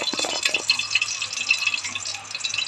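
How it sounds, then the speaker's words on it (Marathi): Water drained off a pot of cooked rice while making a veg biryani, pouring out in a continuous close splashing trickle with no talking. "भाताचं सगळं पाणी निघतंय."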